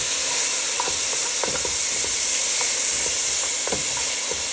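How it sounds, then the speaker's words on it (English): Green onions sizzle and fry steadily in a pan with garlic, a continuous close hiss with scattered soft pops and stirring clicks, no talking. "Saute that in."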